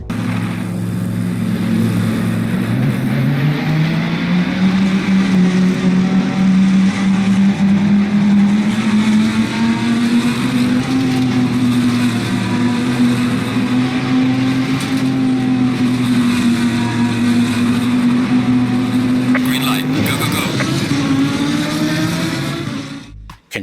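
A race car engine drones in the Assetto Corsa Competizione video game, a loud, sustained, close engine note that slowly climbs in pitch and holds steady, with a brief sharper sound near the end and no talking.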